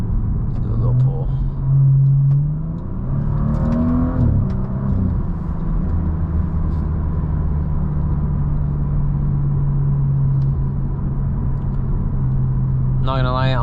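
A BMW F30 sedan pulls hard on the road, its engine revving up through a rising whir and steady rumble heard from inside the cabin, with someone talking over it.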